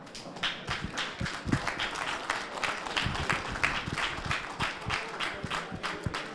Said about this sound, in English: great round of applause there